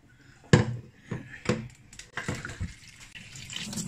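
Water splashes and pours in uneven bursts into a rice cooker pot holding washed rice, with clattering knocks of the container between pours, close by.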